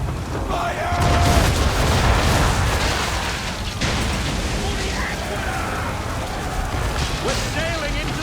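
Ship cannons fire during an Assassin's Creed naval battle, a sustained heavy booming barrage at loud, close range with shouted crew voices over dense game music and ambience.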